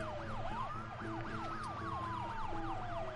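Ambulance sirens wailing in SimCity, several overlapping rising-and-falling tones repeating steadily over a low traffic hum, with no talking.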